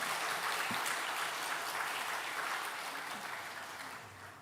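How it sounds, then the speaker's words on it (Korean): A church congregation at a Sunday morning service claps in welcome for a newcomer, a continuous wash of many hands that slowly tapers off. "우리 환영의 박수 한번 부탁드리겠습니다"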